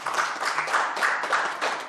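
A room of people at a Korean city council committee meeting claps in a steady, moderate round of applause, evenly sustained with no voices over it.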